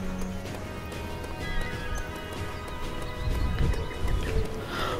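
A horse whinnies and its hooves clip-clop in the video game Dynasty Warriors 9, set against busy in-game ambience with no clear talk.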